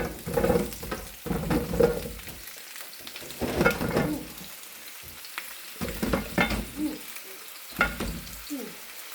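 Potatoes added to a pan of fried onions, frying with bursts of sizzling and stirring scrapes that come and go in short clusters, close and moderately loud, with quiet gaps between.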